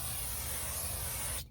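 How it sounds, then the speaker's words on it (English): A steady, loud hiss of aerosol brake cleaner sprayed across the front brake rotor of a 2022 Toyota Camry, one continuous close burst that cuts off abruptly. "Now we're going to spray the whole surface."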